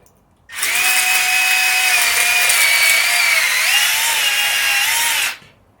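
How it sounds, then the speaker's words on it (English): A power drill runs a 1/4-inch bit through a 3D-printed toy locomotive part, whining loud and steady for about five seconds with a slight pitch dip near the end before stopping abruptly. "grab Mr. 1/4-inch drill bit"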